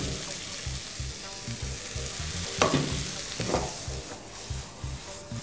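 Vegetables and cheese fry in butter in a pan with a steady close sizzle, and a few louder scraping stirs break through the hiss.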